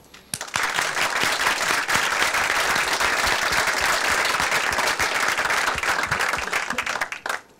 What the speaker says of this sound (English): you all deserve a big applause from all of us